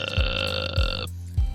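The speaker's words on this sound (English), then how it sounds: "I thought that was a burp then" A short belch rumbles low, with quick burp-like bursts recurring about three times over a steady sustained tone, close and moderately loud with no talk.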